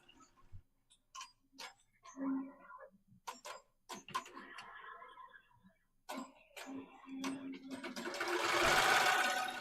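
An embroidery machine stitches a quilt label, its needle ticking in quick irregular bursts with clicks and whirring, ending in a louder, denser stretch of rapid stitching.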